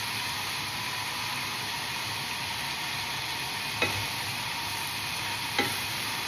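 Peppers sizzle steadily in a hot pan, a constant close frying hiss broken twice by sharp clinks of the spoon as they are stirred; no one speaks.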